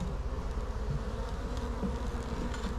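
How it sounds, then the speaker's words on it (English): A swarm of bees buzzes steadily around a new beehive about a week old, a dense continuous drone close by, loud and unbroken. "But these bees are well behaved"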